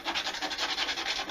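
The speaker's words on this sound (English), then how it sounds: "I'm just going to get some sandpaper and I'll give it a good" Sandpaper rubbing over a resin helmet in quick, even back-and-forth strokes, a close, rhythmic rasping scratch repeating about every tenth of a second.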